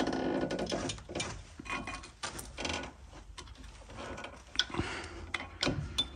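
Brake caliper piston being reset on a Seat Ibiza MK5, a run of close mechanical clicks, ratcheting and metallic knocks in irregular bursts with brief pauses.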